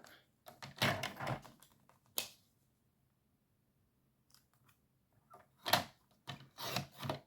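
Scissors snip through paper for a pop-up Christmas card, a few short crisp cutting bursts close by, split by a long quiet gap.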